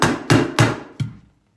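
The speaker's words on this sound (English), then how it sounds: "We're going to staple it right behind the tack strip" Carpet padding run up a wall being stapled just behind the tack strip: three sharp, loud staple-gun impacts at a steady pace, then a fourth after a short pause, each snapping off quickly in a quiet room.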